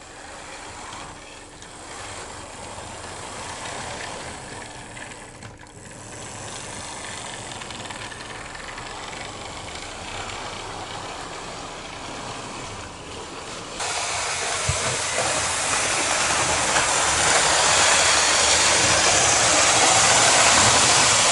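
A continuous mechanical hiss and whir runs steadily, growing louder and brighter partway through, like a small motorized train humming along its track: an older-tooling Hornby Advanced Passenger Train model train running.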